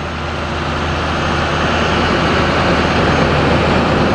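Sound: Duramax 6.6-liter turbo diesel engine of Chevrolet shuttle bus

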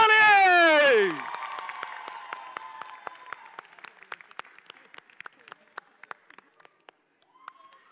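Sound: audience applause

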